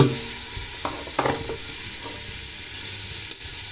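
Carrots and celery fry in a pan for gluten-free lasagne, a steady soft sizzle broken by a few brief scraping stirs, without any voice.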